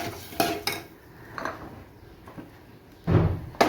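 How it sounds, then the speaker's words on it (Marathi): A spoon clanks and scrapes against a pot while boiled dal is mixed into a filling: a few sharp, sparse knocks spaced across a quiet background, with a louder cluster of clatter near the end. "हे सगळं सारण आहे ते मिक्स करायचं आहे"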